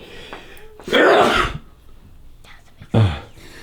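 A sharp, breathy sneeze bursts out loud and close, followed a second later by a shorter second burst, with quiet room noise between.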